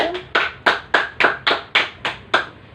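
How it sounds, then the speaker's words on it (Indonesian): A class group claps in steady, evenly spaced beats, about eight sharp claps in under three seconds, close and clear with no talking. "Mari kita berikan tepuk tangan untuk kelompok 1."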